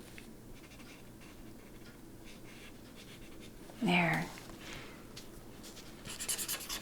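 A colourless blender marker rubs over coloured marker on paper in soft, faint, scratchy strokes, with one short spoken word in the middle and a few quicker strokes at the end.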